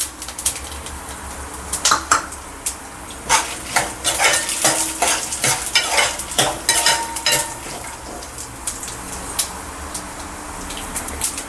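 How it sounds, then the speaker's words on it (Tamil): Dried red chillies frying in a pan with roasted ingredients, a busy sizzle with repeated scraping strokes of a spoon stirring, birds faintly calling in the background. "இந்த அளவுக்கு ரோஸ்ட் ஆனதும் காஞ்ச மிளகாய் போட்டுக்கலாம்."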